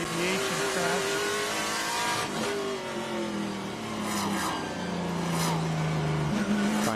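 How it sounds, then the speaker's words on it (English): A Chevrolet Trans Am race car drives at the COTA circuit, its engine roaring loud and steady as it shifts through gears with rising and falling pitch, under continuous commentary from an announcer. "Trying to honor Barry right here in that 27 Chevrolet."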